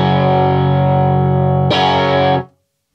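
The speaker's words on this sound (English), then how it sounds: "just that fantastic grindy Marshall sound" An electric guitar through an overdriven Marshall amplifier, compressing with no headroom, gives a loud, gritty, grindy sustained chord, then a second brighter strike that rings briefly before cutting off.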